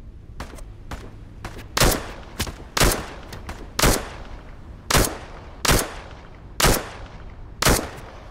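A modded PM pistol fires repeatedly in the VR game Into the Radius 2, giving sharp loud shots at a steady pace of roughly one per second, with fainter distant shots between them.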